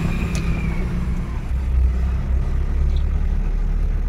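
The engine of a Mahindra Scorpio with a brake fault hums and rumbles steadily while the vehicle is being driven. The drone is continuous and close, swelling slightly partway through, with no speech.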